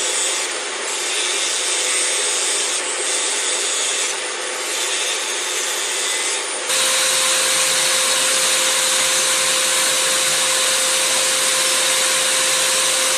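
A multifunction 3-in-1 electric nail file machine with LED lamp and dust extractor runs with a steady high whine and airflow hiss, growing louder and more constant partway through.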